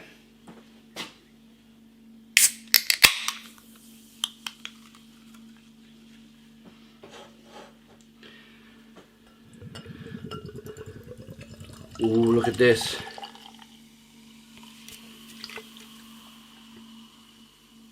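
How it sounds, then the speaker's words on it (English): A can of mango and ginger India pale lager cracks open with sharp clicks, followed by liquid pouring and fizzing into a glass; a voice speaks briefly. "let's get the beer out into a glass and see what we get."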